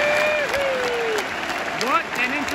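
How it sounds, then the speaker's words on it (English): Crowd clapping and chanting in a hockey arena in Gothenburg at a Frölunda vs. Skellefteå AIK Swedish Hockey League game, a steady dense wash of applause with voices rising and falling over it. "Literally everyone in the arena is standing up right now, and we're all clapping and chanting."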